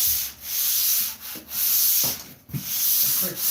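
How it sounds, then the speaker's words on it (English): Steady back-and-forth rubbing strokes of hand sanding on a wood surface being leveled smooth, loud and close, in rhythmic passes with brief pauses between strokes. "sand to level everything out."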